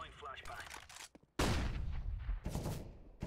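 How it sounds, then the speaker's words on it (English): Counter-Strike gunfire on FACEIT: a few sparse shots at first, then a loud, dense burst of rapid firing and a second volley, close and sharp, with no voice over it. "He's shooting me."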